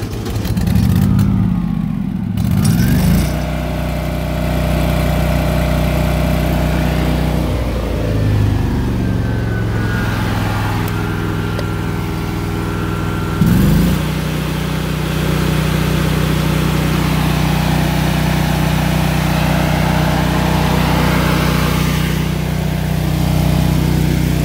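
A Miller Trailblazer 302 engine-driven welder, set up for aluminum spool-gun welding, runs at a steady mid-pitched engine drone. It holds an even, loud hum throughout, with brief shifts in tone near the start and around the middle.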